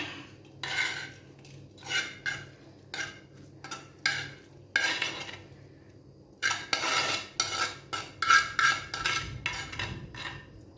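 Clay pot and utensil clatter: a spoon scrapes and taps repeatedly as dried shrimp and mango curry is ladled into a new clay pot, with intermittent clinks and short gaps between bursts.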